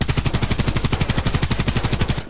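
Sustained rapid automatic fire from the UMP Custom submachine gun in the shooter Warface, a steady evenly spaced burst of loud close shots lasting a couple of seconds and ending abruptly, with no talking.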